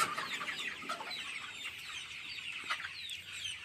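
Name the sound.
chickens clucking on a poultry farm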